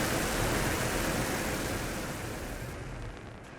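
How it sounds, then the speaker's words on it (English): Rocket liftoff in Mars Horizon, a space agency strategy game, comes as a loud, dense roar of rushing noise. It holds steady, then thins and fades slightly toward the end, with no voices over it. "We have liftoff."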